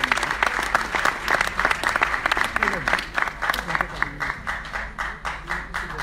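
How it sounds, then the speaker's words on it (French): An award ceremony audience applauds a group with sustained clapping from a crowd, steady and lively, tapering slightly toward the end, with a voice speaking over it. "J'aimerais vous demander de m'aider à acclamer ce groupe"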